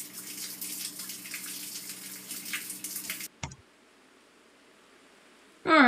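Water spraying onto a car during a wash, a steady broad hiss for about three seconds that cuts off abruptly, followed by a click and near silence before another loud burst.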